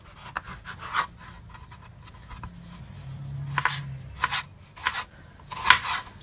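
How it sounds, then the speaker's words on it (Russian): A knife cuts a bell pepper into quarters for a Greek-style salad, giving a few separate crisp cuts and board taps spread out at an uneven pace, close and fairly quiet, with no talking. "Перец мы будем резать на четвертинки."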